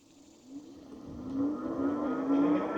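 A Freesky Swift Horse e-bike motor runs on throttle alone, its whine climbing steadily in pitch as it speeds up over a few seconds, fairly loud and close, with no talking.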